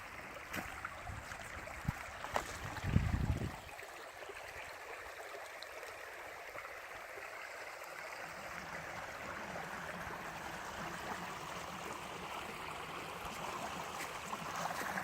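Water flows steadily in a stream on a Florida river trail, a constant broad rushing wash at moderate level, with a brief low thump near the start.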